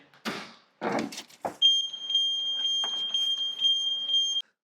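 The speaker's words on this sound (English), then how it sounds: "I'm going to turn the alarm off, though. No, leave it going." Several loud knocks and thumps, then a piercing, steady electronic alarm tone from a VW T5 Transporter van that sounds continuously until it cuts off abruptly.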